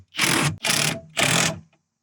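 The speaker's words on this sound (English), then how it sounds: "I'm going to go ahead and tighten these hose clamps down." Hose clamps on a fire extinguisher mount attached to a Jeep Gladiator roll bar are tightened with three loud, close whirring bursts of a powered driver, each about a third of a second long, separated by brief pauses.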